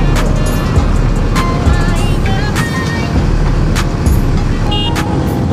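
Bajaj NS200 motorcycle being ridden on an open road on a solo trip, steady loud engine and wind rush throughout with passing road noise, no talking.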